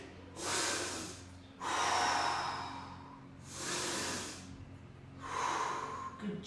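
Deep breaths from a person doing a mobility stretching exercise, four broad airy inhale-exhale swells in a slow steady rhythm, close and fairly soft, with no talking.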